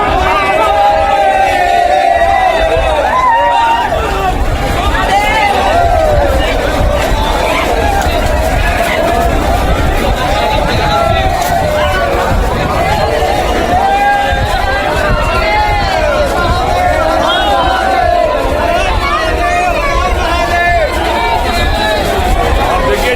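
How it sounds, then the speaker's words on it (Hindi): A dense crowd of devotees packs Somnath temple, a continuous loud hubbub of many overlapping voices, shouts and calls rising and falling without pause. "देखिए सोमनाथ मंदिर की भीड़ देखिए जरा, भक्तों की भीड़, भारी हुजूम।"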